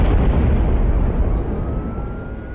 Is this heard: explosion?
yes